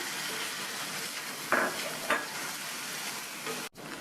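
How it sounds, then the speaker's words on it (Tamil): Chopped tomatoes sautéing in a pan, making a steady close sizzle with two brief stirring scrapes partway through. "அதை சேர்த்துட்டு இந்த தக்காளியை வதக்கிக்கணும்"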